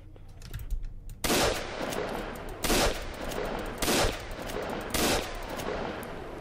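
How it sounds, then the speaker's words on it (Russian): Shotgun blasts in the video game WasteWater boom out four times at roughly one-second intervals, each loud, broadband and sharply struck with a short decaying tail over a constant game background. "Ладно, берем дробовик."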